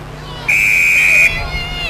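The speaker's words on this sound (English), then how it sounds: "Got a whistle on the play." A referee's whistle sounds during a U15 lacrosse grand final, one sharp, steady blast lasting just under a second, heard over crowd noise.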